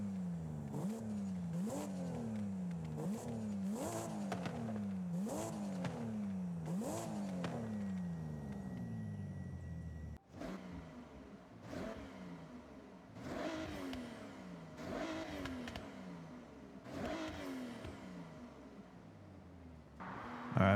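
A 2020 Toyota GR Supra engine in Forza Horizon 6 revs up repeatedly in quick pulses, then accelerates through gear changes, loud and close with no talking.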